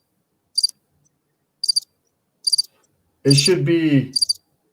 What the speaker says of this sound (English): that's supposed to be crickets